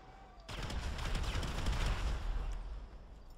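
Gunfire and explosions erupt around a train in GTA V, a sudden loud burst of overlapping shots and blasts rumbling on for about three seconds before tailing off.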